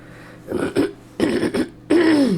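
Someone recovering from an illness clears their throat three times in rough, gravelly bursts, close to the microphone, with short pauses between.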